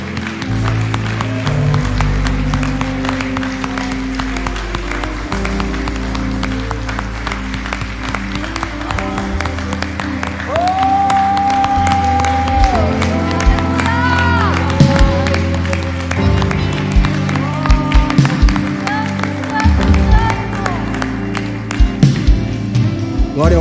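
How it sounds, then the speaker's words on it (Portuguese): A church congregation applauds during a family worship service, with sustained clapping and cheering under loud music and singing voices throughout. "Você pode aplaudir o Senhor?"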